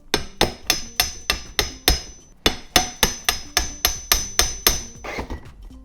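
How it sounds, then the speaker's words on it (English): Repeated hammer blows from a special wine hammer, a rapid steady series of sharp, loud metallic strikes close by, a short pause midway, then another run ending in softer scraping taps. "This is a special wine hammer, you understand?"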